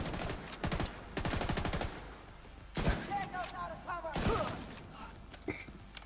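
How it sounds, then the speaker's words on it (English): Video game gunfire: rapid bursts of automatic shots in quick clusters, followed by scattered single shots and loud impacts, close and prominent with a voice speaking briefly alongside. "That guy's shooting."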